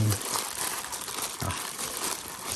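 Gloved hands squeeze and knead Lao-style vegetable dip inside a plastic bag, giving a steady, close crinkling and rustling of plastic with soft squelches that runs throughout.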